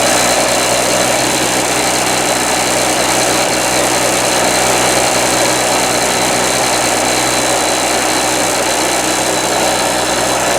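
A Harbor Freight Storm Cat 2-cycle generator runs steadily under the load of a drill, giving a loud, continuous buzzing engine drone with constant vibration and no pauses.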